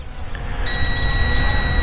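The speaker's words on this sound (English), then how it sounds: "you're gonna have to listen to the annoying beep until it comes down" A Potensic D68 GPS drone beeps as it descends to land: a sustained high electronic tone comes in after a moment of low wind and motor noise and then holds steady and fairly loud to the end.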